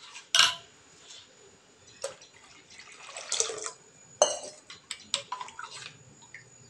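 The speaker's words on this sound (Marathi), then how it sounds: "आपण यामध्ये थोडं पाणी घालून ते चांगलं मिक्स करून घेऊया" Curd is stirred with water in a bowl to smooth out lumps for kadhi, giving quiet, irregular clinks of a utensil against the bowl and soft wet swishing, with a few sharper knocks.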